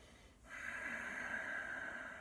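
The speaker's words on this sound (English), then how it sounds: "if you could hear there, I've just brought in Ujjayi breath, totally optional." Ujjayi yogic breathing, a single close, soft, hissing breath starting after a brief pause and drawn out steadily for nearly two seconds.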